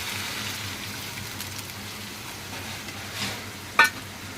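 Potatoes and pointed gourd fry in a pan for a fish curry, giving a soft, steady sizzling hiss throughout with one sharp clink near the end; no one talks.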